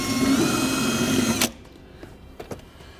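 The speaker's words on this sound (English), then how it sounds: "so we're going to go ahead and drill our hole" A power drill whines at high speed for over a second drilling a hole in a 2015 Jeep Wrangler, then cuts off abruptly, followed by a few faint clicks and knocks.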